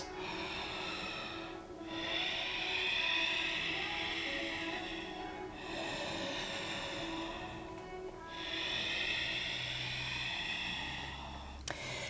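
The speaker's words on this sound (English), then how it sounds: "So ujjayi breath, it's a little constriction in the back of your throat as if you're sighing out, but with your lips sealed." Slow ujjayi yoga breathing with a constricted throat, heard up close as long hissing inhales and exhales in a steady rhythm, about three full breath cycles with no talking.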